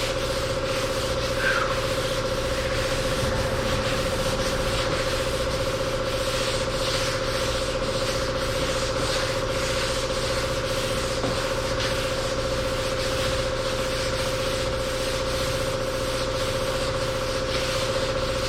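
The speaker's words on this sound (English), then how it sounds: "Sand it" Someone sands the body of a 1969 Chevelle by hand, a continuous rough rubbing scrape that holds steady and close for the whole stretch, with a faint constant hum underneath.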